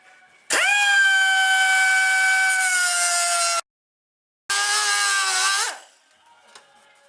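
A power tool cuts freehand through metal with a loud, steady whine that runs for about three seconds, stops briefly, then resumes for a shorter second cut before winding down.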